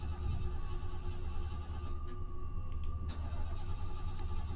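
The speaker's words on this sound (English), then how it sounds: "the car wouldn't start" A car engine in the Fears to Fathom horror game cranks but fails to start, a steady low rumble with whirring, broken by a couple of brief clicks, fairly close and without talk.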